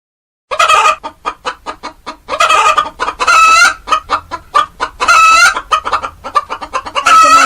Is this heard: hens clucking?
yes